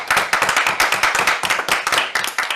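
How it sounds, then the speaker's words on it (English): A small audience claps for a passed presentation at a concluding session, fairly dense hand claps in quick, uneven bursts for a few seconds with no talking over them. "Can we round of applause for it?"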